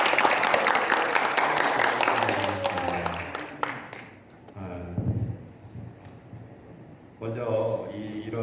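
Warm applause from a church congregation at a Sunday worship service, dense clapping for about four seconds that fades out, followed by a voice speaking alone.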